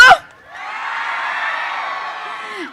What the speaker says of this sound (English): Huge round of applause to Mallareddy Garu